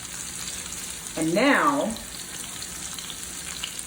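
Okra hash fries in oil in a pan with a constant soft crackling hiss, and a voice briefly speaks over it near the start.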